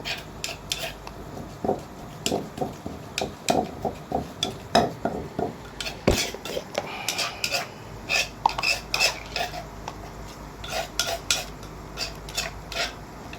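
A metal utensil clatters and scrapes against a cooking pot while chili is added, with a steady run of close, sharp clinks and rhythmic stirring taps and no talk over it.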